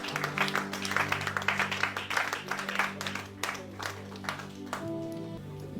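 A church congregation applauds in a steady, fairly even stretch of clapping that carries over a sustained organ or keyboard tone and fades slightly toward the end.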